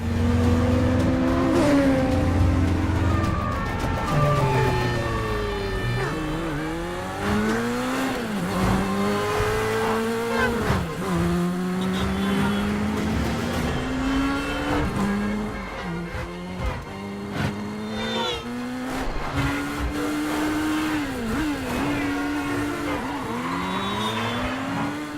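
A car chase from Mission: Impossible – Fallout, loud engines repeatedly revving up and down through gear changes, with tires squealing and skidding in bursts, sustained and close for the whole stretch.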